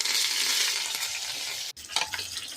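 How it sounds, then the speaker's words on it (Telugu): Mustard seeds, cumin, dried chillies and curry leaves frying in hot oil for a tempering, a close crackling sizzle that fades slightly, broken by one sharp pop and a few stirring clatters. "ఆయిల్ వేసుకొని ఆవాలు, జీలకర్ర, కొంచెం ఎండుమిర్చి, కరివేపాకు వేసి తాలింపు వేసుకుంటున్నాను"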